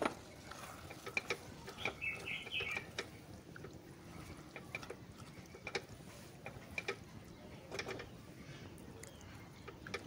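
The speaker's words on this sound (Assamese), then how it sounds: "মাংসখিনি ভালকৈ লৰাই দিম।" Chicken meat stirred in a pot with a spoon for a yoghurt chicken dish, giving faint scraping and clinking sounds in a soft, irregular rhythm close by with no talk.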